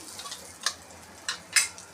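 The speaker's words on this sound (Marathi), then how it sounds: "जिरं मोहरी छान तडतडली" A few brief, crisp pops crackle sharply as cumin and mustard seeds splutter in hot oil, spaced apart over a faint steady hiss.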